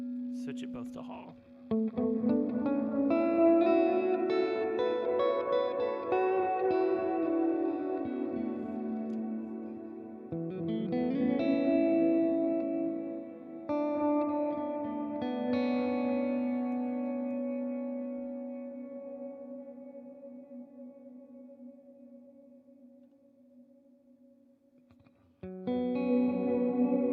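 Electric guitar played through effects pedals, both delays off and both reverbs set to hall: sustained chords and single notes ring out with long reverb tails, swelling and decaying in several phrases, loud and close.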